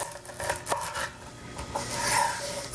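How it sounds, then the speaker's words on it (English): A knife trims a lemongrass stalk at the point where it turns green, making fairly loud, close rasping cuts and rubbing strokes during Thai cooking, with no talk heard. "Trim it off right about where the stalk starts to turn green"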